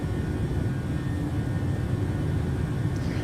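An airliner climbing after takeoff in Microsoft Flight Simulator 2020 gives a steady, even engine drone with broad rumble and no pauses, alone without voices.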